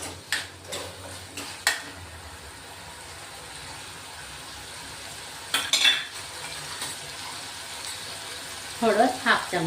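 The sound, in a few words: tomato, chili and garlic mixture cooking and being mashed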